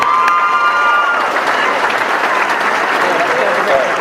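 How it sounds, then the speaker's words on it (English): Audience applause at a high school senior awards ceremony, loud and steady for about four seconds, with cheering and voices mixed in over the clapping. "Give her a big round of applause."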